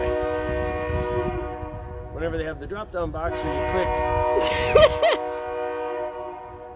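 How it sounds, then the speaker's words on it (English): A train passes nearby and sounds its horn in long sustained blasts, steady under someone talking. "apparently there's a train nearby."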